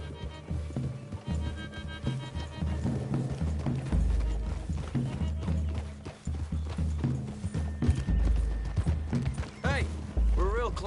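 Horses in Red Dead Redemption 2 ride through trees, with a steady clip-clop of hooves and a brief whinny near the end, under game music and ambience.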